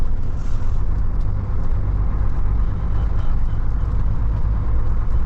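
Volvo FH 540 truck driving straight across a cracked ice crossing near frozen Yakutsk, a loud, steady engine and tyre rumble continuing throughout without a break.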